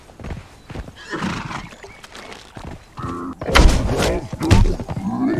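A horse in the video game Conan Exiles whinnies and neighs loudly, with clip-clopping hooves and thudding steps as it moves at a gallop, the neigh swelling strongly near the end.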